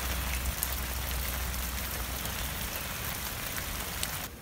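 Gentle rain falls steadily on a homestead, a soft even hiss of drops with no talk.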